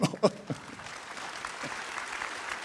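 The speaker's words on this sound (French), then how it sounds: "C'est quand même à applaudir" Applause from an assembly audience at a general meeting, a few louder claps and voice bursts at the start, then steady, fairly faint clapping throughout.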